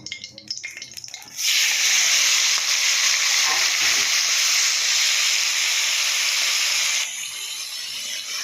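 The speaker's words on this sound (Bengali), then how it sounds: "এবার চিংড়ি মাছটা ভেজে নেব" Prawns drop into hot oil for frying, setting off a sudden loud, steady hissing sizzle that holds strong for several seconds before easing slightly, after a few soft clatters of handling at the start.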